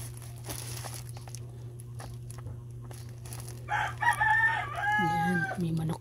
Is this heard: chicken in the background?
yes